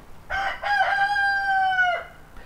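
A rooster in a predator-proof backyard chicken coop lets out one long, clear cock-a-doodle-doo, close and loud, rising sharply and then trailing off over quiet surroundings.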